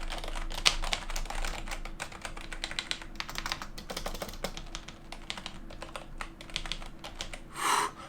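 Fingers type quickly on a Logitech G213 RGB gaming keyboard, a dense, even patter of soft key presses heard from a few feet away, with one brief louder thump near the end.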